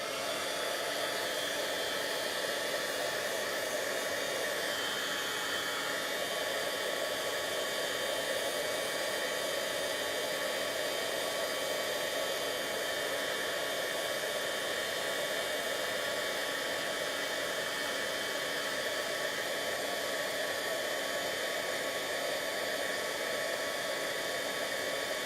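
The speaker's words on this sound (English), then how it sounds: "so I'm gonna pull in my heat tool" A heat tool blows steadily and loudly for heat embossing a card, giving a constant rushing whoosh like a hair dryer with no pauses or voices throughout.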